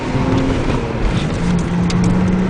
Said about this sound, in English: the car will shake and sound really loud when it wants to shift